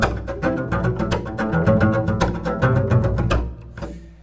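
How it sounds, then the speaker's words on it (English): Percussive chop strokes on a double bass, the bow struck vertically against the strings, giving a steady run of sharp scratchy hits mixed with low pitched bass notes, close and fairly loud, with no voice. "Chopping is a percussive bow technique where rather than playing the string horizontally for pitch notes"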